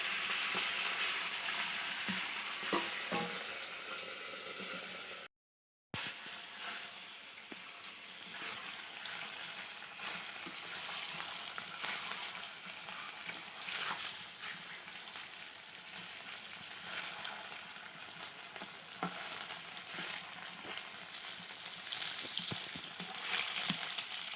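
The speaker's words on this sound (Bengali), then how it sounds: "হলুদ লবণ দিয়ে আমি ডিমটা মেখে নিয়ে এখন ভাজবো" A duck egg, beaten with turmeric and salt, fries in mustard oil with a continuous, even sizzle that carries on for a long stretch. The sound cuts out for a moment once, and nobody speaks.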